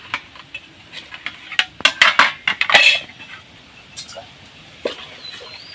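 A metal lid lifts off a pot of steamed semolina coconut pitha: a burst of sharp clattering clinks and scrapes, loudest in the middle, then sparse taps, with faint background sounds and no speech.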